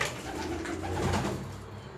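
A pigeon cooing close by, low soft throaty coos rolling under a faint background hiss.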